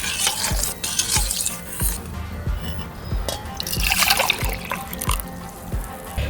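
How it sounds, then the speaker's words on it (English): Hot water is poured into a pitcher and stirred to dilute salt for limeade, making close splashing, trickling and sloshing with repeated light knocks of a utensil against the container, uneven and busy throughout. "now I'm going to pour in the hot water. Okay, and we want to mix it and dilute it."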